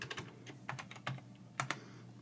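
Keystrokes on a computer keyboard as a password is typed, a quick uneven run of soft clicks with a few sharper taps, close and quiet with no talking.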